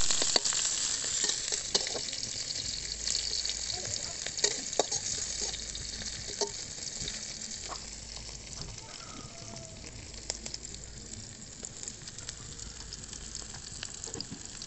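Onion, chili and garlic fry in hot oil for a dish of green taro with dried puti fish, a steady close sizzle scattered with sharp pops and crackles that slowly settles slightly quieter.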